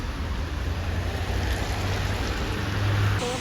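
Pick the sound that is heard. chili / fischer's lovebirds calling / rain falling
rain falling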